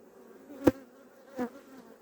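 Honey bees at a hive in November, after a queen change, with two brief close buzzes as single bees fly past over a faint humming background.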